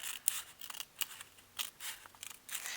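Scissors snip through paper along a drawn line while folding an envelope pocket, a run of close, crisp cuts in an uneven rhythm with no talking.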